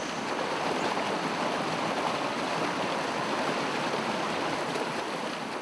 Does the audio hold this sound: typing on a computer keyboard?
no